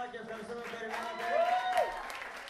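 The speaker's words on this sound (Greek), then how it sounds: "Ένα χειροκρότημα ξανά και ευχαριστούμε που περιμένατε." Audience applause at a karaoke night, moderate clapping from a small crowd that builds in the middle, with a voice talking over it.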